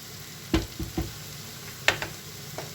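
Tomato paste sizzling in a pan while a Turkish zucchini dish is being cooked, with a faint steady fry under a few sharp spoon scrapes and taps on the pan.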